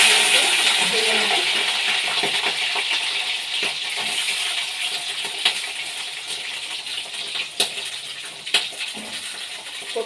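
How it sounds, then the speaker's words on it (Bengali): Washed cauliflower pieces frying in hot oil, a steady close sizzle with scattered pops and crackles that runs the whole time, with no talking. "এই যে আমি কপিগুলো ধুয়ে রেখে দিয়েছিলাম, ভেজে নেব।"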